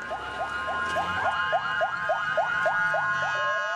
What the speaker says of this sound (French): les ambulances tentent tant bien que mal de se frayer un chemin